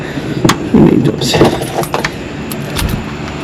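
Keys jangling close by in a home workshop, several bright metallic rattles and clinks in uneven bursts over a faint background hum, no voices.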